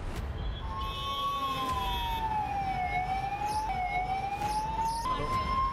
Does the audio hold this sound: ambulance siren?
yes